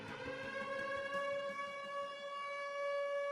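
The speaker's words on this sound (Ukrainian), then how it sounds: "коли ми працюємо, а орет сирена." A steady air raid siren wails continuously with a strong, sustained tone and rich harmonics, loud and unbroken, with no speech.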